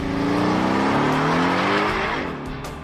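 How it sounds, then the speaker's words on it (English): A finished custom sports car on a test drive, its engine note climbing loudly through the revs with a gliding pitch, close by and without speech. "Got this car finished up and took it out for a test drive."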